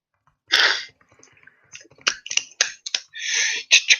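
Someone types on a computer keyboard nearby, producing scattered clicks and short bursts of keystrokes with pauses between them.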